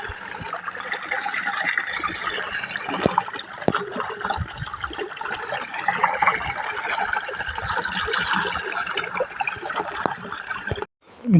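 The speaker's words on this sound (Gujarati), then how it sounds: "મિત્રો અહીંયાથી પાણી જઈ રહ્યું છે ખેતરમાં આપણા।" Irrigation water pours and gurgles into a farm field of ajwain, a continuous close rushing and trickling flow that carries on without speech until it cuts off briefly near the end.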